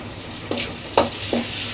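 Whole fennel and mustard seeds crackle and sizzle in hot oil for a Tamil kuzhambu, with a few sharp pops over a steady frying hiss and no talking.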